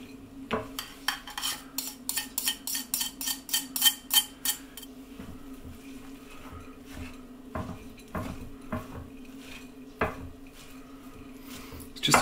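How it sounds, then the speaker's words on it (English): A spoon stirs a thick savoury carrot and seed flapjack mixture in a dark blue bowl, giving a run of quick, rhythmic clinks and scrapes, then slower, irregular knocks against the bowl, close and fairly quiet with no talking. "case of stirring it and stirring it and stirring it"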